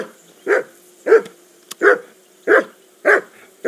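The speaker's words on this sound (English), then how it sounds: "call that dog to heel." A dog in Kingdom Come Deliverance II barks steadily, one clear bark about every half second, fairly close and loud with a faint background hum and no talk.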